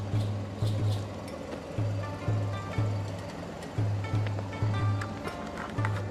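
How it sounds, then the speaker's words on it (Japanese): An Alfa Romeo 156 sedan engine runs at idle with a rhythmic low throbbing pulse, nearby and moderately loud, under a broad outdoor hiss. "すぐエンジンかかる"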